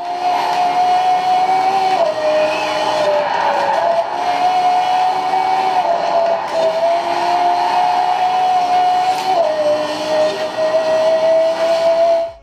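Playback through the 5-watt built-in speaker of a BenQ TK700STi 4K gaming projector, a steady loud stream of game or film audio with a sustained whining tone and engine-like roar that continues without pause.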